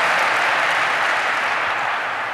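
Audience applause at the INBOUND 2014 keynote for HubSpot customers, a dense, steady wash of many hands clapping throughout, loud and sustained.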